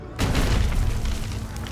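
A deep booming cannon shot from an Age of Empires IV cutscene on the Hundred Years War, a single heavy blast followed by a long rumbling roar that fades slowly.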